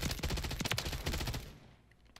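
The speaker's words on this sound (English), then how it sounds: "What's weird about this pulse weapon is that you can hold down the trigger and it will continue to pulse." Pulse weapon in Call of Duty: Advanced Warfare firing continuously with the trigger held: a dense, loud stream of rapid shots for about a second and a half, then trailing off into a fading decay with one late crack.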